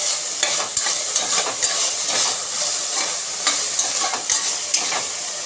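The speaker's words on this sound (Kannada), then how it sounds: "ಇಲ್ಲಿ ತೋಫು ತಗೊಂಡಿದ್ದೇನೆ ನಾನು. ಇದನ್ನು ಹಾಕ್ಕೊಂಡು ಸ್ವಲ್ಪ ಫ್ರೈ ಮಾಡ್ಕೊಳ್ಳುವ" Tofu frying in a pan with oil, a continuous bright sizzle with intermittent stirring scrapes and clicks scattered throughout, close and steady with no voices.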